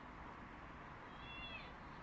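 A cat gives one short, faint meow midway through, set against a quiet background hum.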